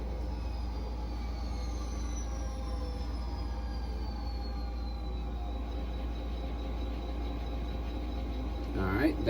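A Kato sound box on a DC model railroad layout plays train sound effects: a continuous low rumble of rolling stock with faint high squealing tones drifting overhead, steady and moderately distant, with a brief clatter at the very end.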